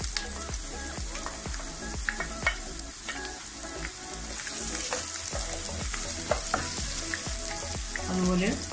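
Browned onion, garlic, ginger and curry leaves sauté in a pan for a Kerala chicken curry, sizzling steadily while a spoon scrapes in a regular stirring rhythm, close and unvoiced.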